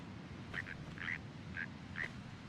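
Birds in the war video game Resistance: Fall of Man, four or five short, faint calls spaced about half a second apart over a steady low background rumble, with no talk.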